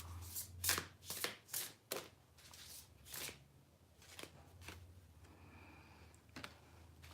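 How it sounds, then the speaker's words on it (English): A deck of cards is riffled and shuffled in several quick bursts of crisp fluttering snaps, close and quiet in a still room, with no talking. "I'm gonna shuffle."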